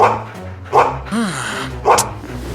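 Dog barking in a school, a few yappy barks spaced across a couple of seconds, close and loud, with a whine between them.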